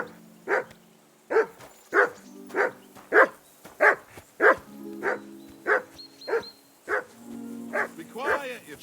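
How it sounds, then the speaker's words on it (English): Dog barking in the video game Kingdom Come Deliverance II, a steady series of a dozen evenly spaced barks close by, loud and rhythmic, with a voice speaking near the end. "Can you get your dog to shut its beak?"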